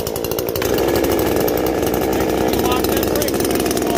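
A Poulan 4620 chainsaw runs loud and steady close by, its engine snarl holding throughout after a brief lighter start.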